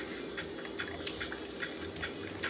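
Smooth soup drips and trickles into a pan over pork chops, a soft, continuous wet pouring with small splashes, faint and close with no talking.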